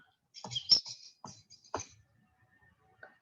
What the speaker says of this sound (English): This is the ponderosa pine red crossbill.